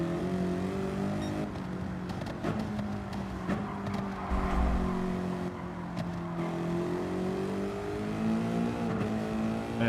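Car engine in Gran Turismo 7 revving through the gears, a near, loud engine with rising and falling pitch sweeps and brief dips at shifts, no talk.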